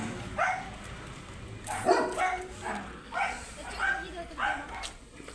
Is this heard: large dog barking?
yes